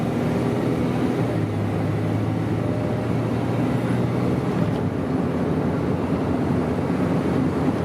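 A Cummins 5.9 diesel in a Ram 3500 dually pickup drones steadily as it accelerates on flat ground, a constant loud, low engine and road rumble heard from inside the cab.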